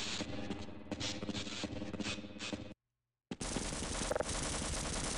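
An automatic turret in the Half-Life video game fires rapid sustained bursts, loud and close, broken by a brief silent pause before the gunfire resumes.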